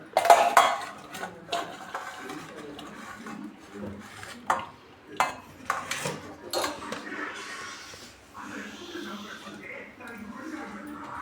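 Cauliflower gobi 65 masala mixture is stirred in a bowl, with irregular clinks and scrapes of a utensil against the dish, some loud and close, while a person talks over it.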